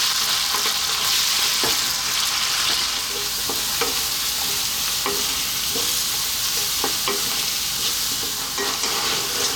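Vegan Lebanese spicy potatoes frying in hot oil, a loud continuous sizzle with repeated scraping and knocking as they are stirred in the pan, no talking.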